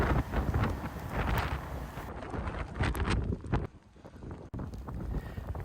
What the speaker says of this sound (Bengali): প্রচণ্ড বাতাস উপরে